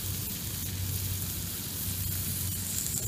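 Bacon frying in a pan over an outdoor campfire on a cold November day, giving a steady, close, hissing sizzle with fine crackles throughout and no voices.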